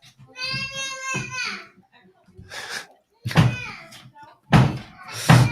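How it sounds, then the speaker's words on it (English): A door bangs shut again and again as a two-year-old slams it, giving heavy thuds close by, with a voice between the slams. "There's a 2-year-old just slamming my door over and over again."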